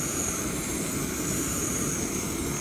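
A Jetboil camping stove burner roars steadily while heating canned Wolf brand chili with beans in a pan outdoors at a park: a close, loud, even rushing hiss with no pauses and no voices.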